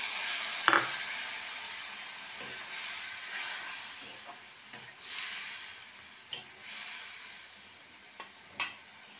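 Tomatoes with chili and turmeric sizzle softly in oil in a pan, with a steady frying hiss and a few light stirring scrapes and clicks.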